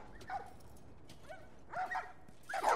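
Dogs bark in the game The Last of Us: a handful of short, moderately distant barks and yips in separate bursts, with quiet pauses between them.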